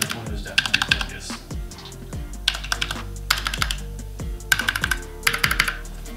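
Rapid typing on a mechanical keyboard fitted with clicky blue switches, sharp close-up clacks in quick uneven bursts with brief pauses between runs.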